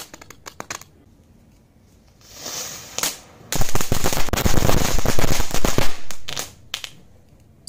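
A few scattered pops lead into a loud, dense crackling burst of small popcorn firecrackers lasting a couple of seconds, followed by a few last snaps.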